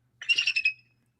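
A single short burst of bird song rings out clearly against quiet, a quick run of about five rapid squawking chirps lasting under a second.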